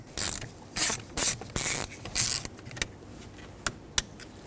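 T10 socket ratchet removing small screws from the combination switch of a 2011-2016 Ford F-350, several short bursts of quick ratcheting clicks followed by a few sharp isolated clicks, close and alone.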